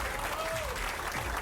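A large crowd applauds steadily at a PBA professional bowling tournament in Jonesboro, with a commentator's voice running over the clapping.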